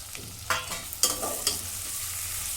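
Tomatoes and ginger-garlic spice paste sauté in a pan for spiced rice, a soft steady sizzle with a few sharp stirring scrapes and clinks, quiet and close.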